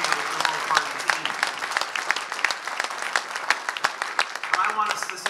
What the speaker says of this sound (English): How about a big round of applause for the entire Ontario Liberal Party team?